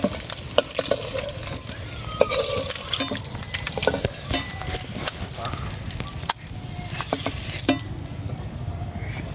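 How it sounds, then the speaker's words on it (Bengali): Eggs coated with turmeric and salt fry in oil, a busy sizzle broken by frequent spatula stirs and scraping taps against the pan, close and moderately loud. "ডিমগুলো হালকা লাল করে ভাজা হয়ে গেছে এখন নামিয়ে নেব"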